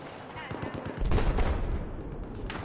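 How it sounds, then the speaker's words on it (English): Gunfire crackles in the video game Battlefield 4: rapid bursts of shots, with automatic weapon rattle growing louder and denser partway through. Some distant, some closer, in a busy battle mix. "I hear so much gunnery"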